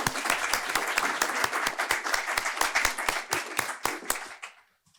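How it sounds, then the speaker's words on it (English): An audience at a World Intellectual Property Day panel event on Capitol Hill applauds with dense, sustained clapping that thins out and fades to silence near the end. "Give them another round of applause"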